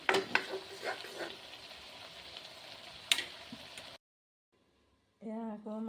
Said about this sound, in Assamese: এতিয়া মাংসত আলু দিলোঁ দি এতিয়া ভাজি আছোঁ